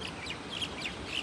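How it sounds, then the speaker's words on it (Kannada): Birds calling outdoors, several short, high chirps repeating in quick succession over a soft, steady background hiss, faint and somewhat distant. "ಪಕ್ಷಿಗಳ ಧ್ವನಿಯನ್ನು ಆಲಿಸ್ತಾ ಹೋಗೋಣ"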